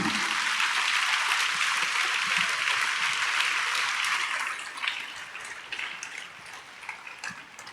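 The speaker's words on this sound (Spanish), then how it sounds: "Denle un aplauso al Rey de Gloria." Church congregation applauding during a worship service, a dense steady wash of many hands clapping that fades and thins out over the last few seconds.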